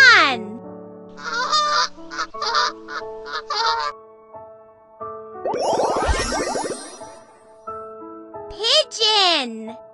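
A swan lets out a burst of harsh, nasal honking midway, set among bright, tinkly music with short melodic phrases before and after.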